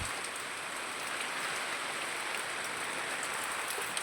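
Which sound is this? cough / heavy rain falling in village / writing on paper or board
heavy rain falling in village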